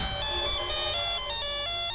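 A mobile phone rings in a hotel-room setting, its steady electronic tone of stacked pitches repeating continuously and loudly with no talk over it.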